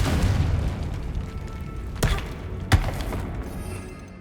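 Blasting spell explosions in Hogwarts Legacy: rumbling game combat with two sharp booming impacts, the second louder, over a low continuous din.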